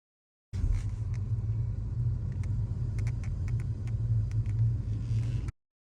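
A car drives along Swiss roads, with a steady low engine rumble and road noise heard from inside that holds even throughout, with a few faint clicks and taps.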